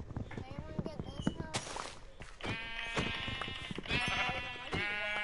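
Sheep bleat in Minecraft, several wavering cries one after another, with short sharp hits between them and a louder burst of overlapping bleats later on.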